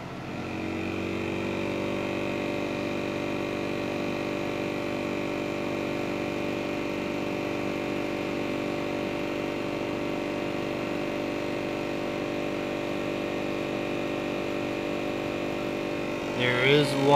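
Wet-dry vacuum machine that holds water runs steadily with a loud, even motor drone and whine for most of the stretch, then shifts with a brief clatter near the end.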